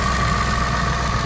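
A Maserati Coupe engine idles steadily with a smooth, even mid-low hum, loud and close, with no variation in pace and no voices.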